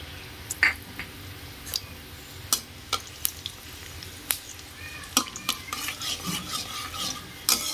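Dried red chilies and panch phoron crackle in hot white (refined) oil in a pan, a steady frying hiss broken by sharp pops and utensil clinks scattered throughout, close and fairly loud.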